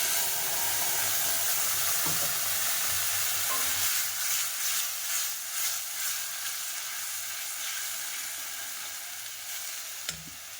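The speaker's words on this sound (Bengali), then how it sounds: "ওর থেকে একটু পাঁচফোড়ন দিয়ে দিলাম, আর একটু পেস্ট বানিয়ে রেখেছিলাম এটাও ওপর থেকে দিয়ে দিলাম" Panch phoron and a ginger-tomato spice paste sizzle hard in hot oil, a loud continuous crackling hiss that gradually eases over several seconds, ending with a brief clunk.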